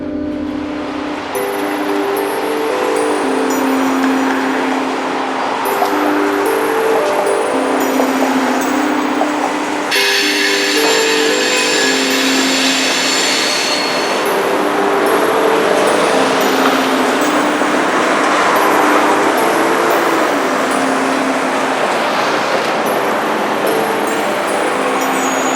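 A long freight train with slug set locomotives rumbles past close by, a steady loud roar of engines and rolling cars with a brighter metallic ringing and squeal joining partway through, continuous without pause.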